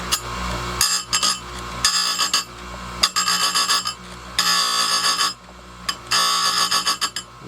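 Electric chainsaw sharpener grinding a chainsaw chain clamped in a vise, loud bursts of high whining grind separated by short pauses as each tooth is touched up, close to the mic.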